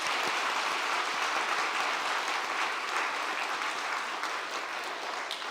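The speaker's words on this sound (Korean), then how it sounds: "우리 큰 환영의 박수 보내드리겠습니다" A church congregation gives warm welcoming applause during a Sunday service, a full, steady wash of clapping that stays even throughout, with no voices standing out.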